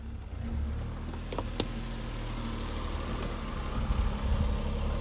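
A car engine hums low and steady at close range while the car drives up onto a ramp, with a continuous rumble and a slight rise in effort toward the end.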